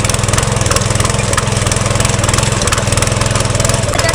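A tractor engine runs steadily at a farm field during lentil sowing, a loud, close, rhythmic chugging throb that holds constant throughout.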